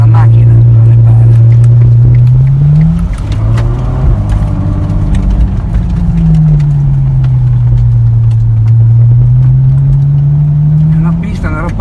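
A car engine pulling in first gear, loud and close, the tone rising to a peak, dropping with a shift, then climbing and falling again in a long sweep.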